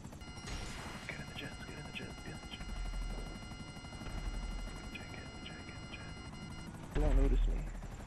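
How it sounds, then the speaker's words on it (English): A police helicopter flies in a video game, its rotor whirring and thumping steadily throughout under game noise, with voices cutting in briefly near the end. "Ah, crap. Police chopper."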